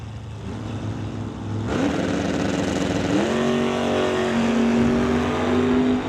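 A Dodge Dart and a Chevy II launch side by side in a drag race, engines roaring loudly and revving up through gear changes as they accelerate toward a 130 mph pass.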